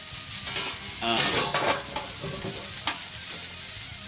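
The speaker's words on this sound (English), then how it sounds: "we're going to let this thing sizzle for a few minutes" Steady, crackling sizzle of a burger patty frying on a hot griddle, with a few scraping clatters of a spatula partway through.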